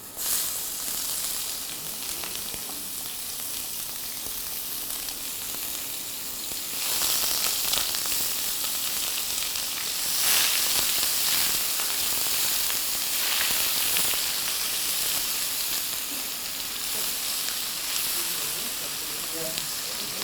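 Onion frying in a very hot pan gives a continuous bright sizzle and hiss, swelling louder in a few bursts midway, with no talking over it.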